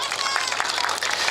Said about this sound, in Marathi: हा बरं त्या पोरींसाठी एकदा जोरदार टाळ्या द्या.